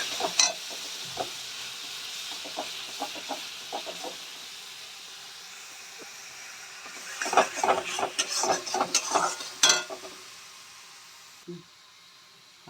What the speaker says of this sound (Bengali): সব মশলাগুলো আমি ভালো করে একটু কষিয়ে নেব